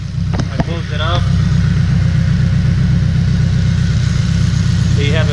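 A turbocharged Honda K20 engine fitted with a full-size radiator idles steadily and loudly at close range, with a low, even drone and a few brief higher tones near the start and end.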